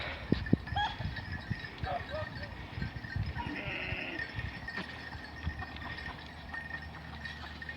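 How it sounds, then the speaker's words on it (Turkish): Grazing sheep bleat a few times at a distance amid soft outdoor garden background noise and occasional shuffling, with faint voices nearby. "Koyunlarımız da burada yayılıyorlar."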